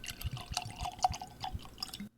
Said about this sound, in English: Did you pour some on you? I think a drip escaped.